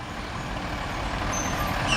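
Garbage truck collecting rubbish, a continuous mechanical rumble and hiss with a faint high beep near the end, fairly close and steady.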